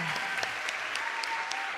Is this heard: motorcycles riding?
no